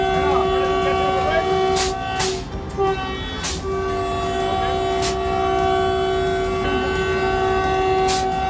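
Vande Bharat express train running on the Chennai–Mysuru route, a steady rumble with sustained horn-like tones and short bright bursts throughout, heard up close with faint voices mixed in.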